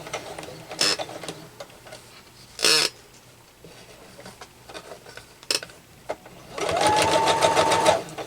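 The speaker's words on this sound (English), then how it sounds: "Again, I'm just going to stay stitch." A sewing machine stay-stitches across the top of a tablet bag: a few scattered mechanical clicks and a brief whirr first, then a steady, close stitching run of about a second and a half near the end.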